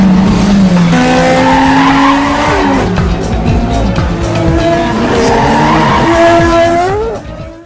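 Race car driven hard on a race track during a test drive, engine revving and shifting pitch while tires squeal and skid loudly and close, the roar fading out at the very end.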